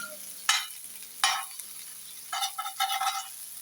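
Fish frying in a pan with chili powder, giving a few short bursts of sizzle and scraping, two separate hits early on and then a busier stretch of stirring, fairly quiet with no talk.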